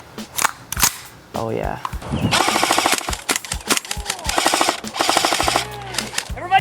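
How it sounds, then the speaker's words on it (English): A KWA gas blowback airsoft pistol firing in rapid bursts, with sharp mechanical cracks and clacking slide action, loud and close, separated by brief pauses, and a voice speaking briefly at one point. "This is a gas blowback airsoft gun that you can use for airsoft"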